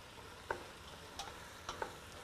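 Ingredients for a Catalan fish suquet stirred and frying in a pan in Roses, a steady close sizzle with a few soft clicks of the utensil against the pan, no voices.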